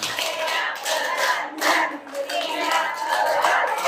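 A group claps together in a counted pattern at an indoor training session, with dense, bright hand claps that swell and dip in short rhythmic bursts and a few voices audible underneath.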